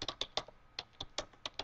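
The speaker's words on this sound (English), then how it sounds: "actually I'll type it over here on my quick basic keyboard here" Keys tapped on a computer keyboard in a short, irregular run of crisp clicks, close and fairly quiet, with no voices.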